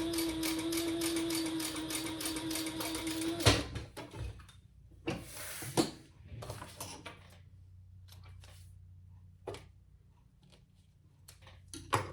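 Sewing machine top stitching runs in a rapid, steady mechanical chatter for a few seconds, then stops, followed by scattered handling clicks and soft rustles of fabric nearby.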